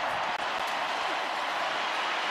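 Stadium crowd at Lincoln Financial Field roaring during an NFL game, a broad, steady wash of cheering and applause with a commentator's voice faintly mixed in.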